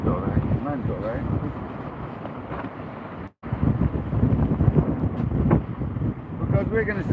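Strong wind buffets the microphone at sea during kayak fishing, a continuous loud rumble and gusting roar. Someone talks over it throughout.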